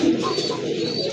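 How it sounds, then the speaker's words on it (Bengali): A pair of fancy domestic pigeons, red-eyed with feathered feet, cooing close by in a pigeon sale enclosure, a steady low murmuring coo running through the whole moment with no talk. "খুবই সুন্দর চমৎকার এক জোড়া কবুতর"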